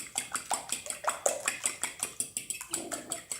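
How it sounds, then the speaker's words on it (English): Eggs being beaten in a bowl for matzo ball soup, a quick regular clatter of a fork or whisk against the bowl, about a dozen close, bright clicks per few seconds, with no talk. "we're going to beat it like you're making scrambled eggs"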